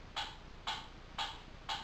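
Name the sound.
mysterious ticking noise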